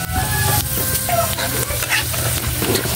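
Pork skin frying in a pan of hot oil as it puffs into chicharon: loud, close, continuous crackling sizzle with bursts of popping and the occasional scrape of stirring, no talk.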